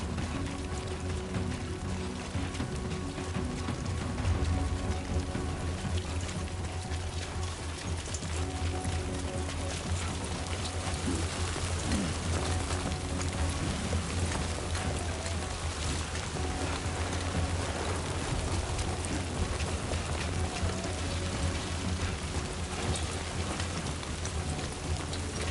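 Steady rain hisses across the whole stretch in Death Stranding 2: On the Beach, a dense, constant wash of falling water with a low rumble beneath it, holding at an even level from start to finish.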